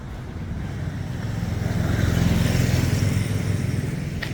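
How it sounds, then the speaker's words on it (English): A motorbike engine drones and swells as it passes close by on a Bangkok side street off Sukhumvit, rising to a peak midway and easing off, with traffic noise in the background. "Watch for those motorbikes."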